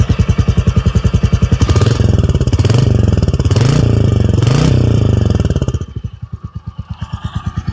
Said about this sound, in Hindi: अब एक बार ना मैं रेव करता हूँ